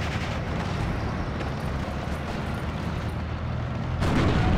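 Heavy artillery counter-battery fire in the WWII strategy game Steel Division: Normandy 44, heard as a dense continuous rumble of booms and blasts that swells louder near the end, with no talk over it.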